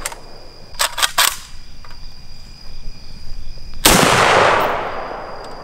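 Gold AK rifle test fired on a range: one loud, sharp gunshot with a long ringing decay, after a few faint clicks and taps.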